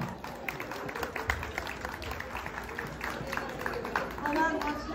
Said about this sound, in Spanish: El aplauso para el caballero